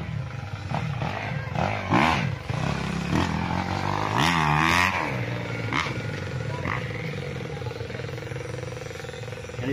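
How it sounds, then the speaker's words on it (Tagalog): Motocross motorcycle engines run nearby at a farm lot along a road in Nagcarlan, Laguna, a steady rough drone that revs and swells in a couple of loud bursts through the whole stretch. "dinig na dinig dito ang andar ng mga motor"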